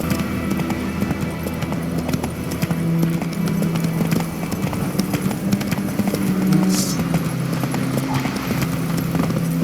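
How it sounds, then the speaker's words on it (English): Steady clip-clop of a trotting horse in The Witcher 3: Wild Hunt, close and continuous, with rhythmic hooves over game ambience and faint tonal music or creaks in the background. "Whoa there, Roach."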